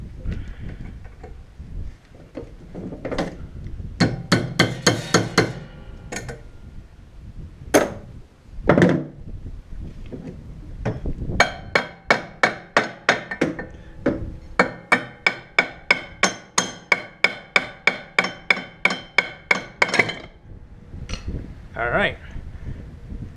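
Metal hammering on a Ski-Doo Alpine snowmobile clutch rings out in repeated sharp strikes, first in scattered bursts, then a long rapid steady series, loud and close.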